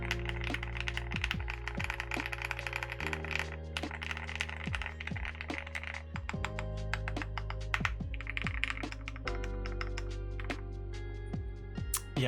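Typing on a Matrix Labs Fuakwaa mechanical keyboard fitted with Ashes R2 switches, producing a steady stream of close, crisp clacks with deeper thocks on larger keys, faint under soft background music.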